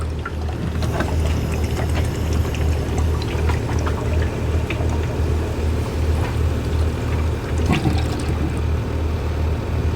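AdBlue glugging steadily from a 10 litre container into a Mercedes car's tank, a continuous close pour with low rumble lasting the whole stretch, no voices.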